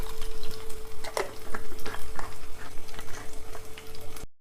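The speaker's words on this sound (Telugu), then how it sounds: "తాలింపు గింజలు" Oil sizzles and crackles steadily as tempering seeds and cumin fry, with a few sharp pops and the scrape of stirring, close and fairly loud.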